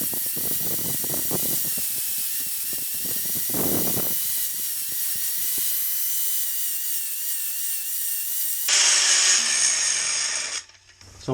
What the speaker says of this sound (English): I'm going to do the next best thing, use the grinder again